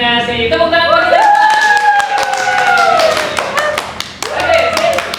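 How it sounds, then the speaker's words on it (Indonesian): A group claps hands during a classroom activity, a brisk scatter of sharp claps and taps running throughout while voices sing or call out loudly over them. "Tepuk tangan buat kita."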